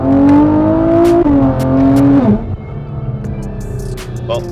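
A Nissan GT-R engine holds steady revs and builds boost during a rolling launch, a loud, close drone that climbs in pitch, drops and climbs again before cutting off into quieter road and cabin noise with faint chirps.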